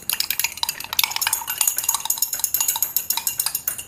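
A spoon stirs chilled honey into a drink in quick, steady strokes, making a bright, rhythmic clinking against the glass that repeats evenly throughout. Close and clear, with no voices.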